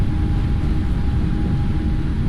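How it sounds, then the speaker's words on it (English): A PMDG 777F freighter jet rolls down the runway on takeoff in the Prepar3D flight simulator, a steady loud engine roar and rumble with a faint thin whine, unbroken throughout. "It's really high speed takeoff."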